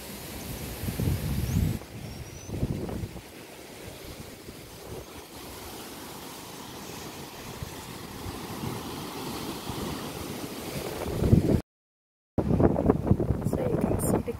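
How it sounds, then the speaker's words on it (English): Ocean waves wash onto the shore in Tobago in a steady, rushing surf blended with gusty wind buffeting the microphone. The sound cuts out briefly near the end. "The sound of the ocean."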